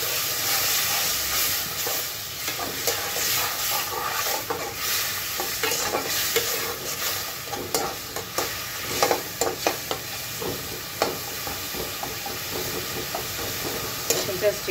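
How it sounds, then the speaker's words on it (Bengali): Spice masala with garlic paste being sautéed in a pan with a splash of water, a dense continuous sizzle and hiss with steam, and repeated quick stirring scrapes growing more distinct toward the end, close by with no talk. "কষিয়ে নেওয়ার জন্য একটু পানি দিয়ে নিচ্ছি"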